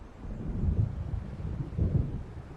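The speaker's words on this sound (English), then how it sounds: "It seems there's a storm coming." Low rumbles of thunder from an approaching storm roll through the Alan Wake video game, two swelling booming pulses over a steady dark background, with no voices.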